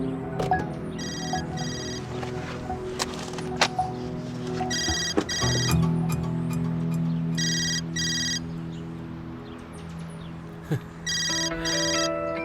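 A mobile phone ringtone chirps in repeated short electronic bursts, ringing several times over a quiet indoor room with a low hum and an occasional thunk, with no talking over it.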